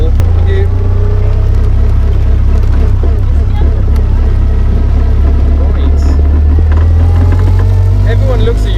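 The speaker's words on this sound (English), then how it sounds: "that's me pulling off on gravel" Caterham 620R sports car pulls off on gravel, its engine droning loud and close in a steady low roar with gear and road noise layered on top, while someone talks over it.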